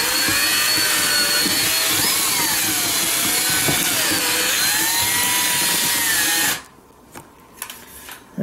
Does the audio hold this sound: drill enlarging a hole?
yes